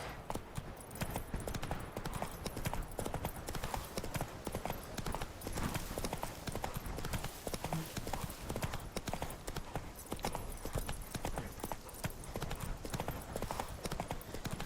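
Rapid, continuous clip-clop of Geralt's horse Roach trotting in the video game Witcher 3, hoofbeats close and even, with a quiet voice briefly over them.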